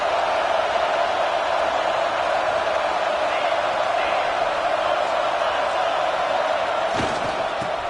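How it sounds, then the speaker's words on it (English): Steady roaring crowd noise fills a college football stadium during a red zone defensive stand in a Tigers versus Texas game, a dense sustained wash of voices at constant loudness with a brief sharp slam near the end. "here comes the noise. This crowd is trying to inspire this defense to make a big red zone stop."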